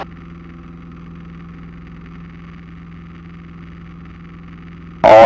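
Inside a Piper Cherokee climbing out on departure, the engine gives a steady, even droning hum at moderate level, with a sudden loud burst of noise right at the end.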